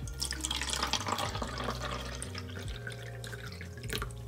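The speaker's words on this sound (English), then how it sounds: "let me get some water in here" Water pours and trickles into a Puni Gel sticker maker kit, a close, steady running and dripping sound with a low hum beneath, no talk.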